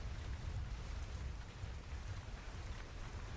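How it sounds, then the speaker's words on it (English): Pouring rain as a tabletop roleplaying game ambience, a faint, steady wash of hiss and low rumble with no distinct drops or voices. "You can't really hear because it's pouring rain"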